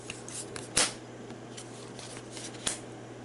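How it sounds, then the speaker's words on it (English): Cards drawn from a deck during a tabletop game of Marvel Champions: Rise of the Red Skull, heard as a few soft, close card slides and snaps spaced over a quiet room. "Let's draw his cards."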